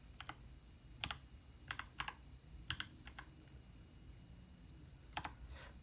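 Keys clatter on a computer keyboard as a terminal command is entered on a Raspberry Pi 5, coming in scattered bursts of sharp clicks with short pauses between them over a quiet room hum.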